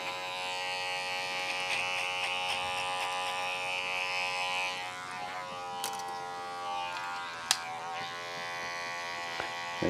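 Electric hair clippers buzz steadily at close range while cutting hair for a side-part haircut, the tone shifting as the blades pass through hair, with a few sharp clicks and taps near the end.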